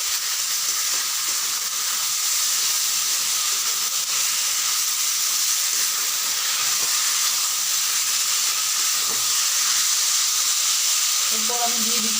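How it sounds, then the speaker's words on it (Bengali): Drained taro leaves, still wet, being stirred in a hot pan. They give off a loud, steady hissing sizzle throughout, with soft stirring scrapes and a few clatters near the end. "এখন আমি দিয়ে দিচ্ছি জল ঝরিয়ে কচু শাকগুলোকে। এখন নাড়াচাড়া করছি।"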